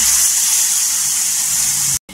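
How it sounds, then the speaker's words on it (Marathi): Lukewarm water poured into a pot of simmering curry for a dry mandeli fish, brinjal and potato rassa, a steady close gush of liquid lasting about two seconds before stopping abruptly. "इथे कोमट पाणी केलेलं आहे, तो टाकून घ्यायचा।"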